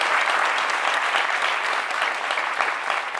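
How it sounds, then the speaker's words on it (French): A TV studio audience claps loudly for an arriving guest, a thick, continuous burst of applause that holds steady before easing slightly near the end. "Merci donc d'applaudir très fort Flavio."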